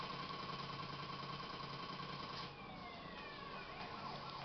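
A police car siren in GTA wailing over engine noise, a dense steady wash of sound, fairly faint and continuous throughout.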